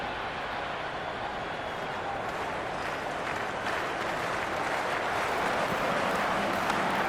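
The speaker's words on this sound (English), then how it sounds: "The crowd is electric right now." Stadium crowd noise from a PS5 cricket video game, India versus South Africa one-day international, rises as a broad continuous roar of cheering and applause that grows slightly louder toward the end.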